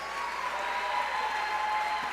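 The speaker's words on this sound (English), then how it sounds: "To have a quick round of applause for our MC." An audience at a college athletics awards ceremony applauds the MC, giving a steady wash of clapping mixed with a sustained tonal hum, even in loudness throughout.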